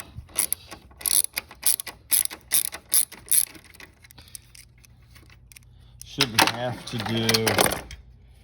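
A ratchet loosens the 12mm battery tie-down bolts on a 1998 Mitsubishi Eclipse GS-T. Quick, close bursts of ratcheting clicks are followed by a pause, and then someone speaks.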